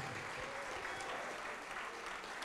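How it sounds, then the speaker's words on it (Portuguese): A church congregation applauds together, steady dense clapping from a crowd at a worship service, sustained and moderately loud throughout. "vamos aplaudir mais ao nome de Jesus"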